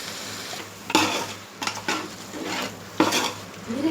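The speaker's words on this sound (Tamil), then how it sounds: "இப்போ வந்து சிக்கன் ஆட் பண்ணிக்கலாம். கொஞ்சம் வந்து மஞ்சத்தூள் ஆட் பண்ணிக்கலாம்." Chicken and turmeric being stirred in a cooking pot for biryani, a spoon scraping and clattering against the pot in several separate strokes over a steady low sizzle, close by with no talk.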